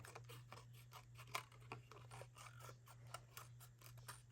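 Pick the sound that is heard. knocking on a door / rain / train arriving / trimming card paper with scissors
trimming card paper with scissors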